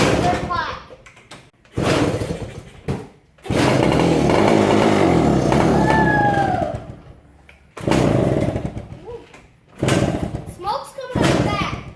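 A Yamaha enduro motorcycle being kick-started gives several thumping kicks followed by bursts of engine sputter and rumble, close and loud, with people talking in between.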